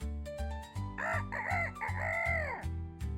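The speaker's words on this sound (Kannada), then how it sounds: "ಒಂದು ದಿನ ನರಿ ಕೋಳಿ ಸುಂದರವಾಗಿ ಕೂಗುವುದನ್ನು ಕೇಳಿತು" A cartoon rooster in a children's moral story crows once, a loud rising-and-falling cock-a-doodle-doo over a steady low background hum.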